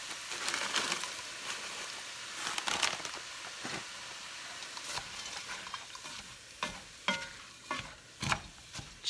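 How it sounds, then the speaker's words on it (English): Chopped onions and green pepper for chili sizzle and crackle in a hot pan, with scattered stirring clatter and sharp scrapes recurring through the steady frying hiss. "So I'm going to go ahead and add some onions"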